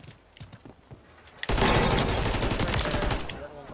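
Shotgun fire in a Call of Duty-style shooter: soft footsteps and clicks, then a sudden loud close blast that rolls into about two seconds of dense, crackling gunfire, with a voice faintly under the noise.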